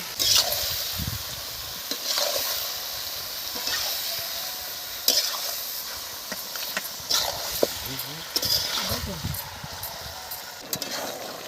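Chicken meat tipped into a hot pan and stirred as it fries, with a steady sizzle broken by scraping spoon strokes and clatters against the pan, close and fairly loud throughout.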